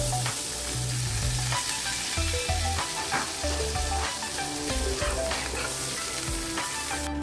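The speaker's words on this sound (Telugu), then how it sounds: "పాన్ పెట్టుకొని కొద్దిగా బటర్ వేసుకొని మనం బాయిల్ చేసుకున్న కార్న్ క్రిస్పీగా అయ్యే వరకు కొద్దిగా ఫ్రై" Boiled corn kernels fry in butter in a pan with a steady close sizzle and crackle, punctuated by occasional stirring knocks, with no talk.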